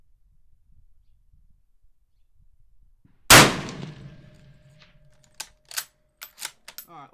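A single loud rifle shot from a Mosin Nagant cracks out close by after a quiet stretch, its report ringing and decaying, followed by a series of sharp metallic clacks as the bolt is worked.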